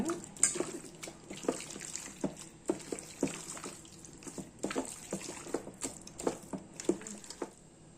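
Light splashes and patters of water being sprinkled by hand while making chicken fried rice, irregular small bursts over a faint background, fairly close.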